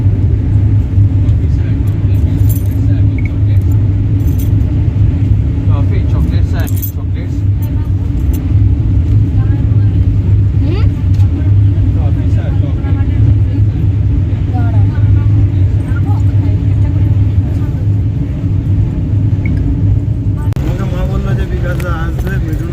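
Inside a moving car, a constant loud low road rumble and engine drone fill the ride, with people talking over it throughout.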